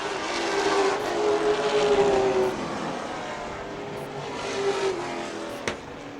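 Stock race cars roar around an oval track, engines whining in overlapping rising and falling tones as the pack passes, loud and continuous with no voices.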